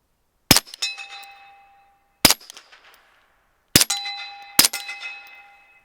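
Four subsonic suppressed shots from a Flux Defense Raider with a Wolfman suppressor ring out loud and sharp, each followed by a metallic clang and short ringing decay, the last two close together; no voices.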